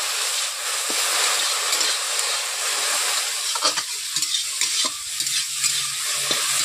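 Okra frying in a pan and being stirred, a steady close sizzle with scraping and tapping from the spatula, no talk.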